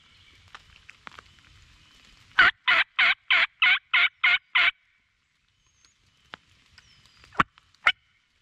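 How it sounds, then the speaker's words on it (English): A wild turkey gobbles once in a sharp, rapid run of about eight loud pulses, fairly close in a quiet, wet woodland, followed by a few faint scattered clucks and taps. "Just had one gobble on my right."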